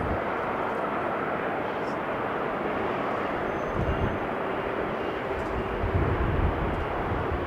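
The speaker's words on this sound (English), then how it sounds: "It's going to be an awesome takeoff." Airliner at Sydney airport, a broad steady low engine roar throughout, moderately distant and constant, with a slight swell near the end.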